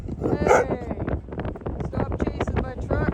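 Husky dogs barking while chasing a truck during a snowstorm, a few sharp nearby barks and yelps mixed with wind buffeting and people talking.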